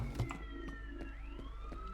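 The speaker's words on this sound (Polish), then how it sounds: "To jakaś syrena wyje." In the first-person shooter game F.E.A.R., a distant siren wails with a slowly rising and falling tone under a low ambient rumble, accompanied by faint regular thuds.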